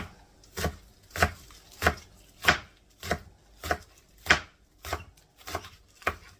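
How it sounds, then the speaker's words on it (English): Green onions chopped with a big knife on a board, about ten sharp, evenly spaced thuds roughly half a second apart, close and crisp with no talking. "We're going to just chop these up."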